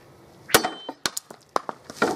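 A 1980s survival knife of the Rambo type chops into a coconut laid on a flat surface, giving a handful of sharp, irregular knocking impacts, close and crisp, with quiet gaps between strikes.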